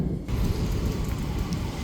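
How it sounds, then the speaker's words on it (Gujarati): Steady rain pours down outside, a loud, dense wash of falling water that starts abruptly and continues without letup. "હમણાં બારે તો વરસાદ ચાલુ થઈ ગયો"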